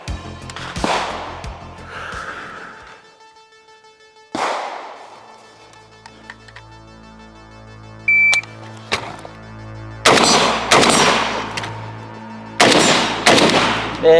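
Draco AK pistol fired along a shooting course, with sharp gunshots in scattered singles and quick pairs, then dense rapid bursts near the end, each crack followed by ringing decay in an open outdoor setting.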